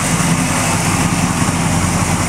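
A 1965 Chevy Impala show car with Edelbrock Performer RPM aluminum heads and an Edelbrock Performer manifold idles steadily, a close, continuous low rumble with no voices over it.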